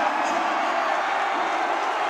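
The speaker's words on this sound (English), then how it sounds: "Hindi ko na narinig ang pito sa ingay ng crowd dito sa Batangas City Coliseum." Basketball crowd at Batangas City Coliseum during a playoff game, a steady dense roar of cheering that fills the whole clip with no breaks.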